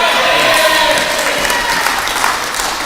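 Applause fills the stands at a Trans-Tasman test match, a dense, loud, steady wash of clapping from a large crowd throughout.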